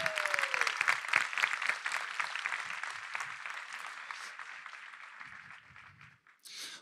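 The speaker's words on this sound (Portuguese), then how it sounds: "Uma salva de palmas para toda essa turma que está fazendo esse evento acontecer aqui" An audience at a marketing event applauds the event team, dense clapping that starts strong, slowly thins and fades, then swells briefly again at the end.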